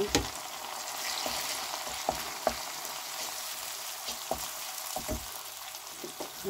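Two tablespoons of blended ginger garlic paste sizzle steadily in hot oil in a pan, a continuous close frying hiss broken by a few sharp knocks of stirring.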